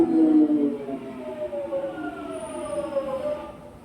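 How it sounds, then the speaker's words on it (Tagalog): A train pulls into a station in the UK with a drawn-out, wavering metallic squeal that slowly fades as it slows, over a steady rumble of platform noise. "In 1 minute, the train is coming"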